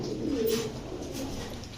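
A female Bagha pigeon coos in a low, soft, steady murmur close by, with a faint background hiss and no talking.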